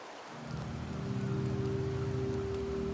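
Steady rain falls in the Septimont area of the video game Wuthering Waves, a continuous even hiss with a low hum beneath it, filling the scene with no voices.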